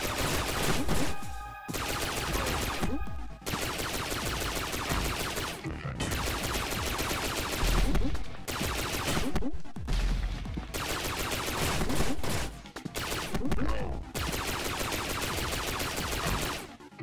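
Rapid bursts of enemy gunfire from the Mighty Aphid 2 video game, dense overlapping shots repeating in quick volleys with short gaps, loud and continuous against a busy game soundtrack, with no talking.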